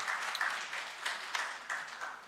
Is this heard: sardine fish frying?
no